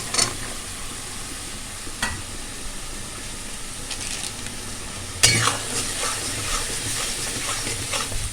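Raw green peas dropped into a spice masala frying in a pan, steady sizzling with sharp spoon scrapes and clinks as the mix is stirred, louder after a burst midway, no voices.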